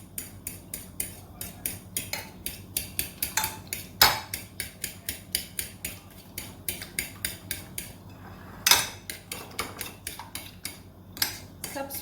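Spoon rapidly clinking against a bowl while egg is mixed with green and red chilies and spices, a fast regular tapping rhythm with a few louder knocks, close and unaccompanied by talk.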